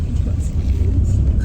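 A tiny kei car packed with six passengers rolls along a road near Sapa, Vietnam, filling the cabin with a close, uneven low rumble while voices murmur inside.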